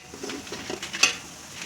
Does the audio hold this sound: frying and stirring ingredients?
yes